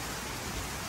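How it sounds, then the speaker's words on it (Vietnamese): Heavy rain shower pouring onto fruit trees and ornamental plants in a home garden in Arlington, Texas, at the start of autumn: a dense, steady hiss of falling water with a low rumble beneath, close and unbroken. "Được một trận mưa rào như vậy"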